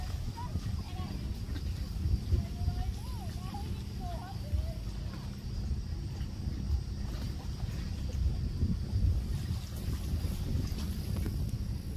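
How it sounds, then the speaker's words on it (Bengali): A boat passes on Lake St. Clair, a steady low engine rumble with wind noise carrying through, while people talk faintly nearby. "বোট যাচ্ছে"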